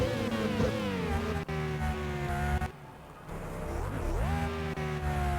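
A race car screams through the Monaco Grand Prix in a racing game, its loud engine note cutting out sharply under hard braking as the wheels lock, then climbing again as it powers away.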